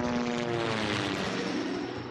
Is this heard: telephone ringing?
no